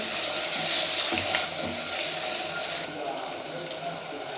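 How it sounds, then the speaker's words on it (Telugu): Eggs frying in hot oil for a drumstick egg curry, making a steady, close crackling sizzle that holds throughout at an even level, with a voice speaking over it. "ఇప్పుడు వీటిని లైట్ కలర్ వచ్చేంత వరకు ఫ్రై చేసుకోవాలి."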